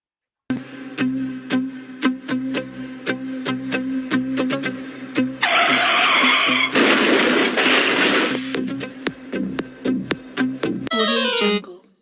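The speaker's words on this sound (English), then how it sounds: "You play the car crash and then play game over" A car crash sound effect played by a Python game: a run of sharp repeated electronic clicks, then a loud burst of crashing noise lasting a few seconds, followed by more clicks and a short closing burst, with no speech.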